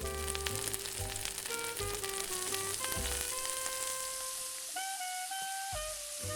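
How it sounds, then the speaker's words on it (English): Wäinzoossiss, Luxembourgish wine sausages, frying in a bit of butter in a pan, with a steady sizzle running throughout and background music over it. "we'll first fry it in a bit of butter"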